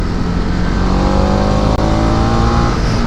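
A Maruti Suzuki WagonR passing close on a mountain road near Kurseong, a loud, dense engine and road roar that holds strong throughout.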